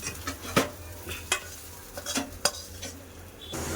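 Cauliflower fries with chilli and onion in a pan, giving a quiet sizzle broken by a series of irregular sharp spatula scrapes and clinks against the pan, with no talking.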